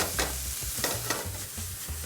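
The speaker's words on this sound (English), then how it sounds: "You can hear that rice popping a little bit." Rice toasting in a hot pan for shrimp fried rice, popping and sizzling continuously with a steady frying hiss and a few sharper crackles and stirring scrapes, close and fairly loud.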